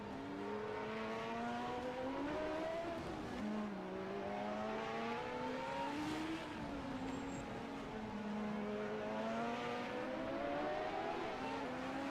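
A 1987 CART Indy car races through the final turns of the Molson Indy Toronto street circuit. The engine wails loud and close the whole time, its pitch sweeping up and down repeatedly as the car brakes, downshifts and accelerates out of each corner.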